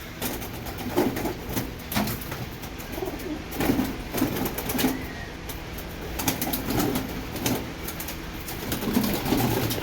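Pigeons coo repeatedly in soft, rounded bursts as they come down to feed, with light rustling and occasional wing flaps close by and no talking.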